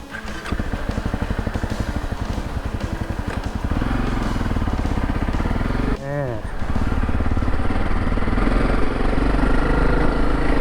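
A motorcycle rides down a mountain trail of about seven to eight kilometres, its engine chugging steadily and close, with a brief gear-change whine midway, while someone talks over it.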